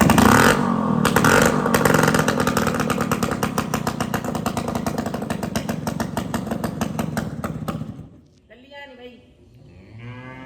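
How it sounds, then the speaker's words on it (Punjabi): A scooter engine cranks and catches, then runs with a rough, buzzing rev held at high pitch for several seconds before cutting out abruptly, after which a voice speaks nearby. "ਸਟਰਗਲ ਹੋ ਰਹੀ ਹੈ ਸਕੂਟਰ ਸਟਾਰਟ ਕਰਨੇ ਨੂੰ"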